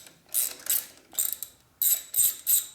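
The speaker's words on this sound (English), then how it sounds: "I don't know why you're using my wrench. You should be using a quarter drive." Ratchet wrench clicking in six quick bursts, in two groups of three, while working on a 2004 Harley-Davidson FLHT Twin Cam touring motorcycle. The clicks are crisp and close, with short pauses between strokes.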